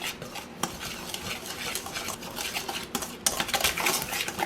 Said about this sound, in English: now we're just going to whisk it.